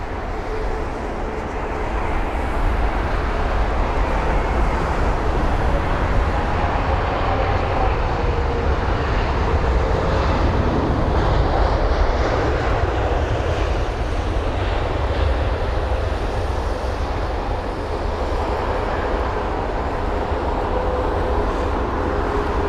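A Virgin Atlantic Boeing 787-9 Dreamliner lands at London Heathrow at sunset, its engines a broad, loud, steady roar that holds throughout with a rushing wind-like texture.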